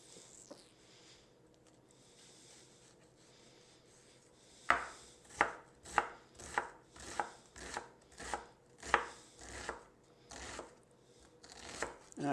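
Onions diced small with a knife on a cutting board: after a quiet stretch, a steady series of about a dozen crisp, close chops lands in a regular rhythm, with no voices.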